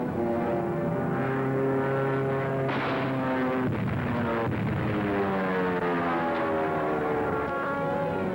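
A loud propeller bomber plane drones overhead, its engine pitch sliding and shifting as it passes, steady and close throughout.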